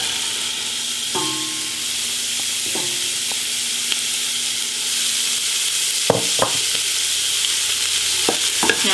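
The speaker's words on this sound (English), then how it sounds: "Now we'll just saute this for a little while to kind of get them to a wilty stage." Leeks and garlic sautéing in a pan give a loud, steady frying sizzle with intermittent clacks and scrapes as a utensil stirs them, nearby and without speech.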